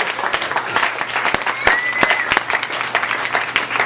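Audience applauding at a small café show on the final night of Bookworm Bakery & Cafe, close, dense and loud clapping that runs steadily with a few whoops mixed in.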